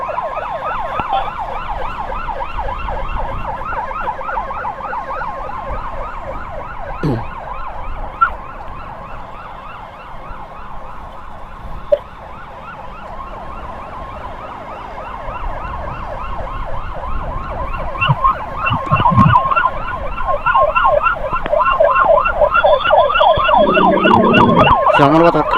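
Wailing ambulance siren on the road during a two-ambulance escort through one-way traffic, a continuous rising-and-falling tone held steady and loud for the whole stretch, with engine and road rumble underneath and a brief thump partway through.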